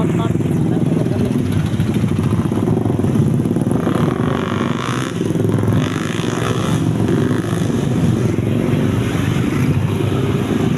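Motorcycles from a riding club run near Kanjuruhan Stadium in Malang, a loud continuous engine rumble and drone that fills the whole stretch, with no break in the noise.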